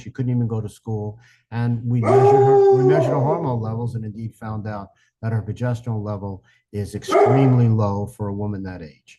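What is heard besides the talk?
dog barking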